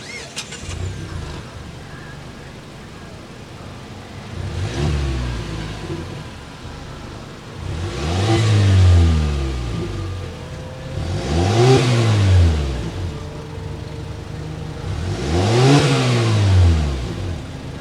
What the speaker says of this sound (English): start it up so you can hear that exhaust note